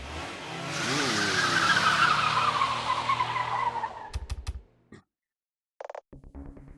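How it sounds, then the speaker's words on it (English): Cars in a video game roar past with a long tire-squealing skid that rises and fades, followed by a few short sharp bursts of engine and tire noise after a brief pause. "Sounds like cars."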